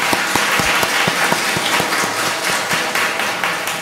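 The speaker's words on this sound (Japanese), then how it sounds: "拍手を持ってこの2人をですね、" A congregation at a Sabbath worship service applauds to welcome two new members, a full, even patter of many hands clapping nearby with distinct individual claps throughout.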